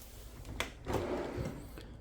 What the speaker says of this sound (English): full extending ball bearing drawer guided drawers that also have a soft close to them